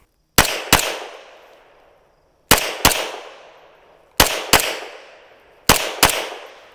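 Gunshots fired at targets in a shooting drill, one round per target: four quick pairs of sharp, loud cracks, each pair about a third of a second apart, with a pause of roughly two seconds between pairs and a short echoing decay after each shot.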